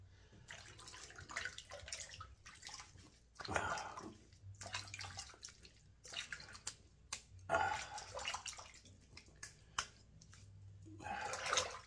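Water splashing and running at a sink as a face is rinsed after a wet shave, with irregular bursts of splashing and dripping between quieter pauses, fairly close and moderately loud.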